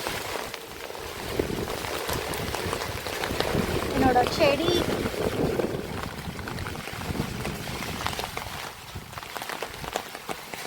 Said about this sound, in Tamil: சரியான மழை.